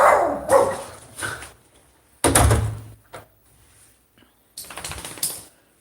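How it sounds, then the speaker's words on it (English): A dog named Prince barks in short bursts close by around four in the morning, with quiet gaps between the outbursts and a door-like thump mixed in. "There's no need for the barking."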